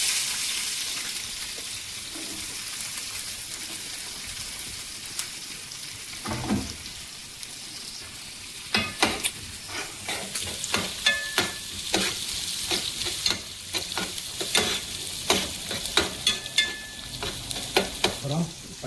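Onions stirring and frying in hot oil with popped mustard seeds, a steady sizzle broken by repeated scraping stirs that grow busier toward the end, close by, with no talk.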